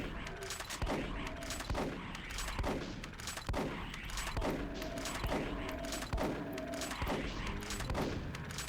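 Shotgun blasts from the Doom mod Eraser, a steady run of loud, punchy gunshots about every second, each followed by a short mechanical reload clack, with someone talking over the firing.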